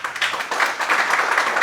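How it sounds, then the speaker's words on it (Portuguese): Short burst of audience applause at a Brazilian live event, steady clapping from a crowd throughout without any talking. "Aplausos, gente."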